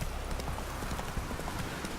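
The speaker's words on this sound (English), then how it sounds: "magically teleporting easily confused horse" A horse's hooves clip-clop steadily and fairly faintly in The Witcher 3, a quick regular trot with no talking.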